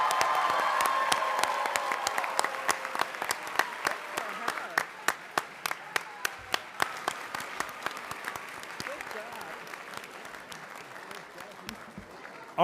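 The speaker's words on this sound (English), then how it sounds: "So I'd like a big round of applause." Applause and cheering from an audience at a Board of Education action meeting, heavy and continuous at first, then thinning into scattered sharp claps as it fades over about twelve seconds.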